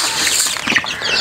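Chickens at a backyard coop, with faint clucking and a brief rustle or flap of wings amid a steady hiss of background noise; no talking.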